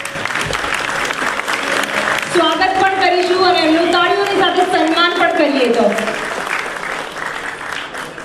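An audience applauds Garud Garbi performers from Rajkot on stage, with steady clapping throughout and a voice speaking prominently over the middle of it.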